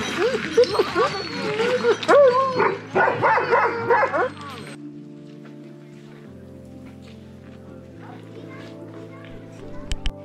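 Dogs at the Denali National Park kennels yip, bark and whimper in a lively cluster for a few seconds, with children's voices nearby, then a quieter steady hum takes over.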